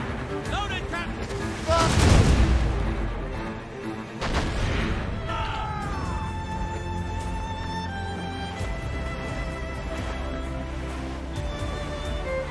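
Heavy ship cannon fire in the naval combat of Assassin's Creed Rogue, booming shots under a steady game soundscape and a shouted command voice.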